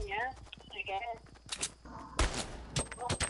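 Fortnite gunfire comes as short bursts of sharp, clipped shots, with a heavier blast partway through, all under excited voices talking over the action.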